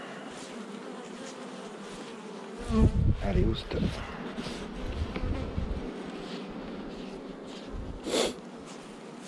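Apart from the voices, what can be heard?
honeybees buzzing around a hive frame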